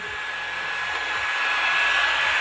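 A hot-air heater blows steadily on a Lambretta engine casing to warm it for fitting a bearing, a loud, constant whooshing hum with a thin whine, running alone without speech.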